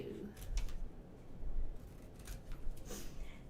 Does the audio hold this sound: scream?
no